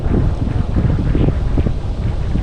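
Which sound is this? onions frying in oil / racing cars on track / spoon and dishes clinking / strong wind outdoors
strong wind outdoors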